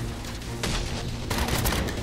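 Guns fire in Batman Arkham Origins during a street fight, a steady crackle of rapid shots that grows louder in two surges, carrying on throughout with no speech.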